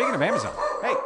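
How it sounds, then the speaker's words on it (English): A dog makes a low, wavering growl-bark, two short rising-and-falling vocal bursts close by, while a person speaks over it. "That was the dog growling?"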